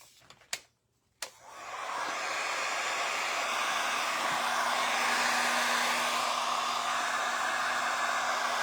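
A hair dryer switches on after a couple of sharp clicks and blows with a loud, steady whoosh at close range for several seconds, without any talking.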